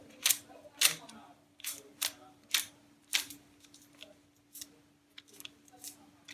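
A magnetic Pyraminx puzzle being turned, giving a close series of sharp, irregularly spaced clicks and snaps over a faint steady hum, with no talking.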